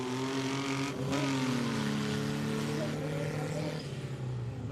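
Cars race down a drag strip lane at the Wings and Wheels 2019 event, with a loud, sustained engine roar whose pitch bends and shifts as the vehicles accelerate.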